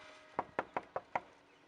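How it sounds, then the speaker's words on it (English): Five sharp knocks on a door, evenly spaced and close, ring out alone against a quiet background. "Knock."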